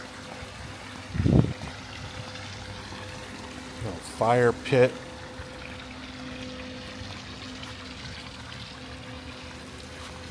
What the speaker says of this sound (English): some water features